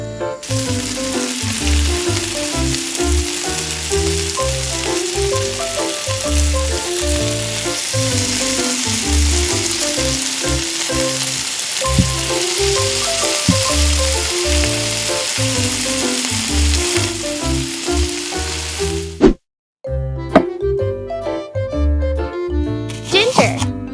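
Shrimp frying in cooking oil gives off a loud, steady sizzle that runs without a break for about twenty seconds. A strong tonal layer sits underneath, and the sizzle cuts out briefly near the end before starting again.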